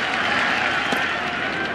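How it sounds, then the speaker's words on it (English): A baseball stadium crowd at a World Series game roars with cheers and applause. The broad, steady wall of noise carries on throughout. "Crowd trying to get back into it."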